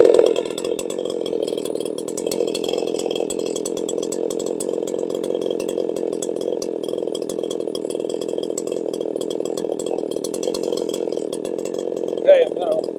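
A small two-stroke engine runs at a steady idle while its carburetor is being tuned, giving a continuous buzzing drone at fairly constant speed for the whole stretch, with a brief rise near the end.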